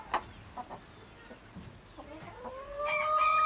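Chickens and a rooster on a small farm near Rize, scattered separate clucks at first, then a loud drawn-out crow rising near the end, fairly close with no talk.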